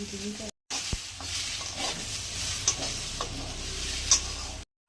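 Paneer with peanuts, ginger and green chilli cooking in ghee in a pan, a continuous close sizzle and frying hiss with intermittent stirring scrapes and a couple of brief metallic taps.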